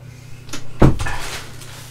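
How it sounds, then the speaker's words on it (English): A door is shut with a single solid thud, close and fairly loud against a low background hum, followed by a short rattle. "Let's just shut the door."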